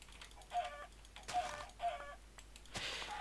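Chickens in the Minecraft video game cluck in three short bursts, fairly close, with faint game noise between them and no talking.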